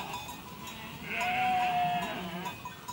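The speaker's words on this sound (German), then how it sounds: "Schnucken und Ziegen." Heidschnucke sheep and goats on the Lüneburg Heath, a single drawn-out bleat rising in the middle of a steady outdoor background, moderately close and with no talk over it.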